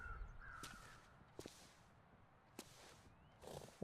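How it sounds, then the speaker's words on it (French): Crows caw in the snowy wilderness of The Long Dark, a few sharp, separate calls spaced over several seconds, fairly distant against a quiet windy background. "Là il y a des corbeaux qui rôdent certainement autour d'un cadavre."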